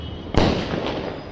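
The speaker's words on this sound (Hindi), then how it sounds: "मैंने चलाया अभी बहुत अच्छा वाला पटाखा" A firecracker explodes during Diwali festivities, one sharp loud bang followed by a crackling, hissing tail over ongoing outdoor noise.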